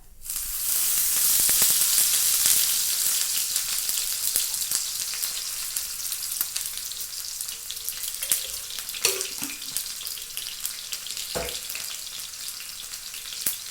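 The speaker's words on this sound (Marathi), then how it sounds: "सुरुवातीला कांदा टाकून घेतला, कारण तवा तपला ना, तर तेल उडत होतं म्हणून कांदा टाकला सुरुवातीला" Onion frying in oil on a hot tava for a pigeon pea chutney, a loud steady hiss and crackle throughout with occasional knocks of a spatula, no voices.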